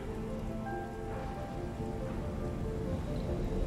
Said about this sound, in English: Yeah, look, raining.